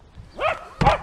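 A cartoon dog barks twice at goats in a farmyard scene, the two sharp, loud barks close by and separated by a short pause.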